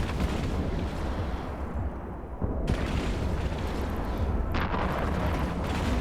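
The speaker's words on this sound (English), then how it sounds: "One more cluster of missiles should do it." Rocket launches and missile explosions in the space combat game EVE Online, a dense, continuous rumble of booms and bursts that barely lets up, with a brief dip before the barrage resumes loudly.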